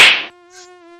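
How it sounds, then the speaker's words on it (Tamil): A mosquito whines close by with a thin, steady, high-pitched buzz lasting under a second, following a brief rushing burst at the start. "என்னடா கொசு கடிக்குது இப்படி கடிக்குது?"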